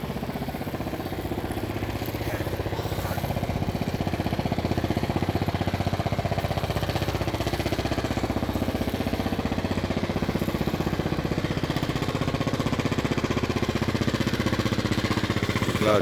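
A boat engine on the Manu river in Moulvibazar drones in a loud, steady, rapidly pulsing chug that runs unbroken throughout at close range.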